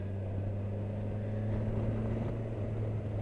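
Steady low engine drone from a 2019 Kawasaki Versys 1000 motorcycle decelerating under engine braking, a continuous even hum with wind noise, no voices.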